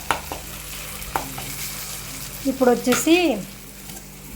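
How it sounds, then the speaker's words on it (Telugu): A spoon stirs a broad bean and tomato curry in a pan, giving soft sizzling and scraping under a steady low hum, while someone speaks briefly partway through. "వేసుకొని కలుపుకున్నాము మంచిగా."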